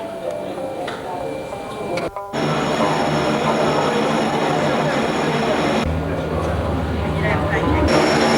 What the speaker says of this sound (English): Russian-designed airplane of fairly ancient vintage.